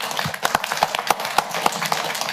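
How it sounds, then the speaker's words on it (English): Scattered clapping from a small group at a county council meeting honoring staff members, a few sharp claps spaced irregularly over a couple of seconds, fairly close and modest in volume. "let's have a round of applause for them"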